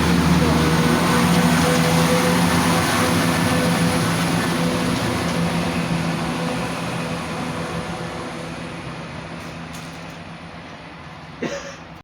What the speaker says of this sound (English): Passing through shortlisted is an East Midlands Railway service from London to Pancras to Nottingham.